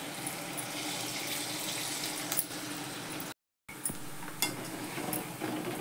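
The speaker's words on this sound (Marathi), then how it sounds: "तळून घेते सगळे" Soya chunks deep-frying in a kadai of hot oil, a steady, close, bubbling hiss that runs on continuously apart from one brief break.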